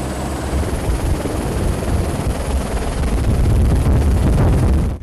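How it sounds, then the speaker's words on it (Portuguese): A police military battalion's helicopter roars close and loud, its rotor and engine a dense, steady rumble with wind buffeting throughout before cutting off abruptly. "helicóptero que opera na região."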